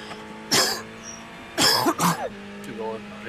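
A person coughs and clears their throat during an iRacing GT3 race at Brands Hatch: two or three sharp, close bursts, with a low steady engine drone running underneath.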